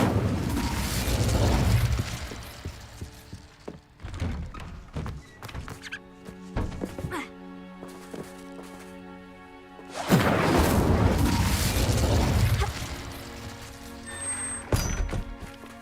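Casting the Incendio fire spell in Hogwarts Legacy produces a loud whooshing burst of flame, followed by scattered thuds and chimes and then a second strong fiery rush, with no talk.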